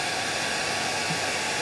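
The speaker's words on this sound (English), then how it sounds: "we can use the persuader or the hairdryer" A hair dryer blows in a steady, loud whooshing roar with a constant motor hum, uninterrupted and close.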